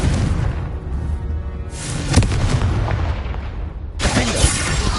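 The Confringo fire spell in Hogwarts Legacy goes off as a booming fiery blast over dense, continuous game noise, with a sharp hit near the middle and another burst toward the end.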